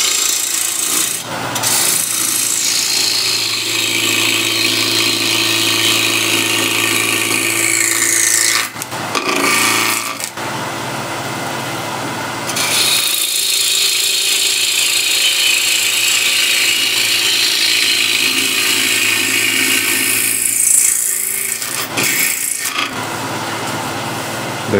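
Wood lathe spinning a bowl blank at 1600 RPM while a tool scrapes and rubs the wood, a loud continuous hum and rasp broken by a few short pauses.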